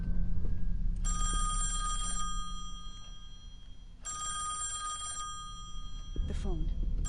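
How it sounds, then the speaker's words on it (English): A telephone bell in the horror game Song of Horror rings in two long, insistent bursts, a pause between them, over a low ambient rumble, with a brief rustling sound near the end. "The phone."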